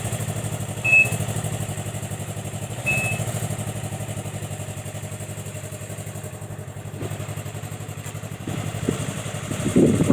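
A Can-Am Ryker's engine idles through its muffler with a steady, close, throaty rumble and a couple of brief clattery bumps. A slight rise in revs comes near the end.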